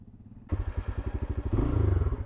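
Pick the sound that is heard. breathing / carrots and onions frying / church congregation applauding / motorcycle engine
motorcycle engine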